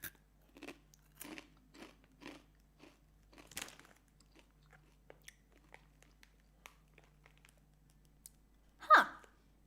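Volcano Takis rolled tortilla chips are bitten and chewed up close: a series of sharp, dry crunches in quick succession, then fainter chewing clicks and a louder final crunch.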